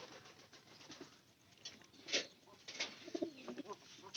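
Pigeons in a loft housing adults with young give soft, intermittent coos and low murmurs against a faint rustling background, with a few brighter calls toward the end.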